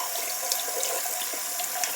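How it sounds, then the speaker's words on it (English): Steady hiss of water running from a kitchen or bathroom tap as it warms up, continuous and fairly close, with no talking over it. "Make sure I test out the water. It's starting to get pretty warm."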